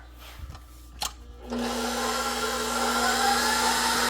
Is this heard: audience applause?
no